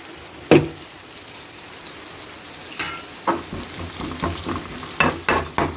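Onions frying in oil over low heat while being stirred, a soft continuous sizzle broken by a sharp clatter early on and a run of scraping stirring strokes toward the end, close up with no talking.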